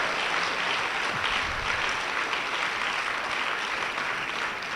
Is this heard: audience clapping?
yes